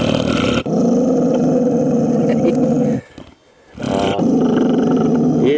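A puppy growls and roars loudly and continuously while gnawing on its first big bone, close by, with a brief dip into near silence partway through before the rough growling resumes.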